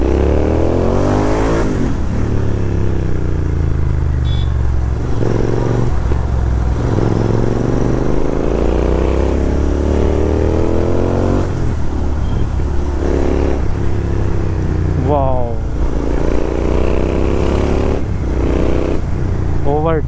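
A Royal Enfield Continental GT 650 twin-cylinder motorcycle rides and revs up, its engine note climbing and dropping in repeated loud rising sweeps as it accelerates and shifts, with a rider talking over it.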